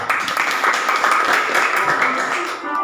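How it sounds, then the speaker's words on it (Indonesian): A class claps for a student group after its presentation, a short, dense burst of applause close by with some voices underneath, steady throughout the few seconds. "Tepuk tangan dulu untuk kelompok 2."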